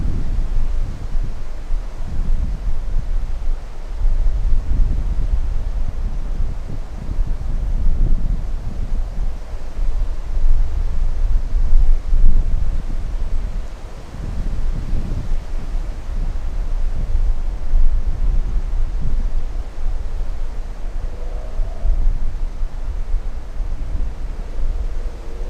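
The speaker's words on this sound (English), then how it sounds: "They're getting the gusty winds right now." Gusty wind buffets the microphone at Miami International Airport, a steady broadband roar with surging gusts throughout, loud and close, with no voices.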